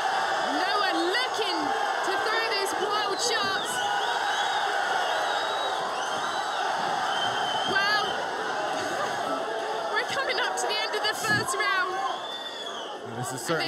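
Kickboxing crowd at an Enfusion heavyweight fight making noise, a continuous hubbub of chatter with whoops and shouts rising now and then, heard under commentators talking.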